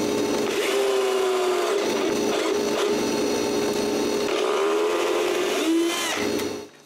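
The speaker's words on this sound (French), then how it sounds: "je dois tarauder les trous de fixation directement dans l'MDF" A tool threads mounting holes directly into MDF, making a steady close whirring grind with a wavering tone that runs for several seconds before trailing off.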